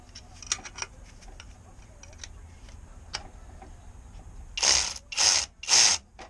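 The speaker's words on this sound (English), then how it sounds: "I'm tightening the bolts that are holding the filter frame there" Half-inch ratchet tightening filter frame bolts: faint scattered clicks and handling noises, then three loud, bursty ratcheting strokes close by at the end.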